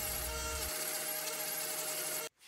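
A power grinder fitted with an 80 grit flat disc whines loudly and continuously against raised lettering on a Harley Davidson mag wheel, then cuts off abruptly near the end.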